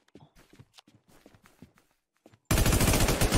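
Gunfire in the Infestation video game, preceded by soft footsteps and shuffling, then erupts as a sudden, loud, continuous burst of rapid shots.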